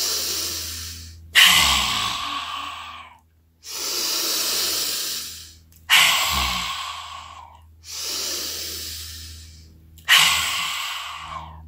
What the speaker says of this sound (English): So breathe in and breathe out with me.